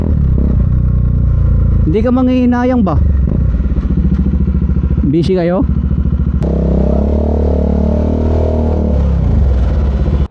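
A Bajaj Dominar UG2 motorcycle with a Two Brothers aftermarket muffler idles loudly up close, with two sharp revs rising and falling before it settles into a steady, deeper rumble while people talk over it.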